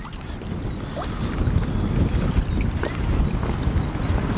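Swirling wind sweeps across a lake during a feeder fishing session for bream, a steady rushing buffet against the microphone that rises and falls in gusts.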